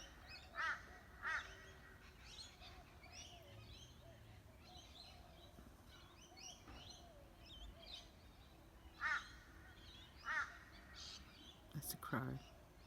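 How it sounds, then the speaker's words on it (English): A crow caws outdoors in several distant, spaced calls over a quiet background, with faint rustling and a few brief nearer bumps toward the end. "That's a crow."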